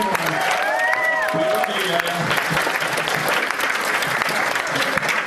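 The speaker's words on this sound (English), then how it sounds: "I think Yaya deserves a round of applause for contributing." An audience at the Auchinawa 2010 charity auction breaks into sustained, lively applause for a contributor, with brief voices and a whistle-like tone early on over the continuous clapping.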